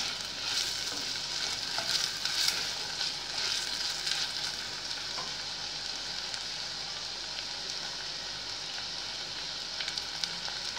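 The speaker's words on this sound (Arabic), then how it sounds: "الفلفل والبصل اهم بدأوا يدبلوا كده هو مع بعض" Peppers and onions frying together in a pan, wilting before liver is added for rice: a steady, close sizzle with faint stirring sounds throughout and no voices.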